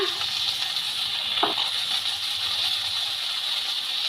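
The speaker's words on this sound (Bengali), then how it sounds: "রসুন বাটা সব মশলা দিয়ে সবজিগুলোকে খুব ভালো করে ভেজে নেব" Okra and potato pieces fry in a pan with ground ginger, cumin, chilli and garlic paste, giving a steady close sizzle with a faint rattle or scrape partway through and no voices.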